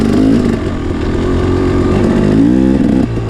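A motorcycle fitted with a Rekluse Radius X automatic clutch pulls away under throttle, its loud, close engine climbing steadily in pitch with a brief dip near the end and no talking over it.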